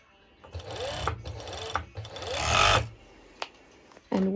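A domestic sewing machine stitches the side seam of a circular waistband for skirt-style bottoms. It runs in short close bursts of whirring with brief pauses between them, ending in a louder final run.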